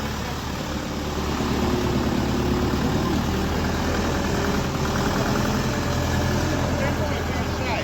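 A small 40 hp Dongfeng 404 tractor engine runs at a steady, loud idle, a continuous low rumble that rises slightly in intensity after the first second.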